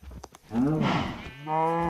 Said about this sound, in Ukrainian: Корова. Корова.